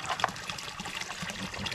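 Cold water trickles and splashes steadily while someone fetches water to carry home, a continuous close gurgling flow with a brief louder splash near the start and no talk.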